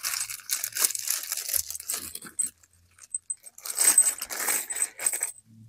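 Small metal wood screws for mounting an EG4 12000XP inverter clink and rattle as they are handled, in bursts of close, bright jingling with short quiet gaps between them.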